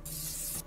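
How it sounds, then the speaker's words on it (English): Bug spray hissing from an aerosol can in a VR video game, one loud bright burst lasting just over half a second before cutting off. "Oh, bug spray."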